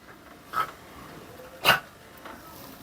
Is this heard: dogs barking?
yes